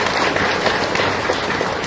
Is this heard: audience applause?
yes